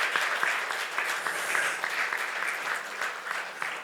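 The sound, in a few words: audience applause at conference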